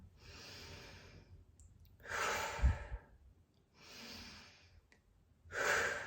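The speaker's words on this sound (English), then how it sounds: "let's exhale out through the mouth for this." Four long, breathy exhales through the mouth during a seated chair yoga breathing exercise, each a soft rushing sigh separated by quiet pauses, close and clear with no talk.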